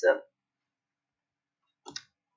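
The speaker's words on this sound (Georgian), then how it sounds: "დავაწყაპუნე მასზე" Computer mouse clicks in near-silence: a short sound at the start and a couple of quick clicks near the end, with a brief trace of a voice.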